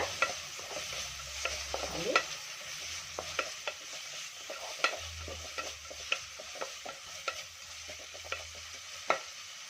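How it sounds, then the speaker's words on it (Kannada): Onions, with turmeric and tomato, sizzle in a pan for restaurant-style dal khichdi while a spoon stirs and scrapes in irregular, close clinks over a steady frying hiss; no voices. "ಈರುಳ್ಳಿ ಕೂಡ ಚೆನ್ನಾಗಿ ಫ್ರೈ ಆಗಿದೆ"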